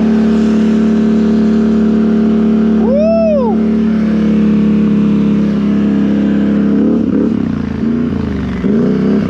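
Loud, close Can-Am Renegade 1000 XMR ATV with RJWC dual slip-on exhausts holding a steady throbbing drone, with one sharp throttle blip early and rougher, choppy revving toward the end.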